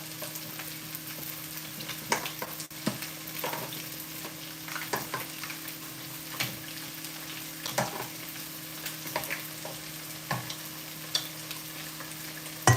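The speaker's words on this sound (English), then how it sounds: "but you fry them in oil and that's it" Sopes, small masa cups, fry in oil with a steady hissing sizzle throughout, dotted with regular pops and crackles and an occasional scrape, with no talk over it.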